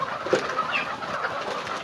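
Fayoumi chickens pecking at grass on a farm in Moulvibazar give off soft, scattered clucks and short chirps over a steady low murmur of the flock.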